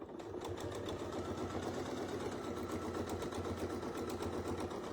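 A sewing machine runs steadily, stitching through a quilt in a continuous, even mechanical whir with rapid needle ticks, close and uninterrupted for the whole stretch, no voices.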